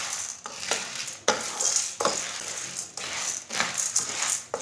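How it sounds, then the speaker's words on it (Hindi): Dry chana dal roasting in a pan over low heat, stirred with a spoon: a steady grainy rattle and scrape with sharp sweeps about once a second, close and alone. "इसे भी चम्मच चलाते हुए भूनना, इसे भी जलने नहीं देना।"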